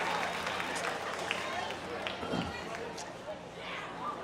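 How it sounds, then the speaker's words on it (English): Audience at a magic show applauding a volunteer, a dense, continuous crowd clapping throughout, fairly loud with some voices mixed in. "Everybody give Frankie a big round of applause"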